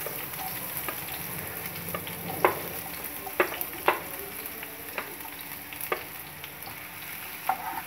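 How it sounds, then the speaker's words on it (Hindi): Chopped onions fry in two spoons of hot oil in a pan, giving a steady, fairly quiet sizzle with scattered light pops and spoon taps; no talking. "इसमें डालेंगे हम प्याज"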